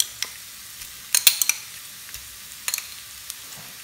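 Tomato paste going into a hot pan for lasagne sauce: a soft, low sizzle broken by a few brief scraping and clicking stirs close by, with short pauses between them.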